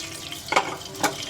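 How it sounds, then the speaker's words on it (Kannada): Bay leaf, cloves, peppercorns and star anise fry in hot oil for vegetable pulao, a soft sizzle broken by two brief stirring scrapes close to the pan, with no talk. "ಎಲ್ಲ ಎಣ್ಣೆಲಿ ಫ್ರೈ ಆಗಲಿ. ಎಣ್ಣೆಲಿ ಫ್ರೈ ಆಗ್ತಾಯಿದೆ."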